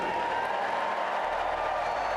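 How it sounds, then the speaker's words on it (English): Dense, sustained cheering and applause from a large crowd at the Democratic National Convention as Harris appears onstage, a steady roar of noise. "The DNC crowd erupted as Harris herself surprised many with an onstage appearance"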